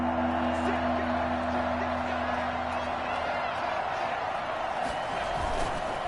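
A football stadium crowd at a Bills versus Cardinals game roars steadily ahead of a big third down, a dense, sustained wall of cheering and whooping heard from a distance under commentator speech.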